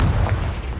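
A Confringo blasting spell explodes in Hogwarts Legacy, a short, heavy, booming burst with deep rumbling low end that fills the whole moment, loud and close.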